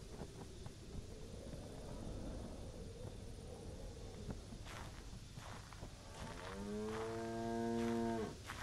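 A cow moos in the video game The Greyhill Incident, a long, wavering low call that rises out of steady ambient wind and soft footsteps at a moderate distance.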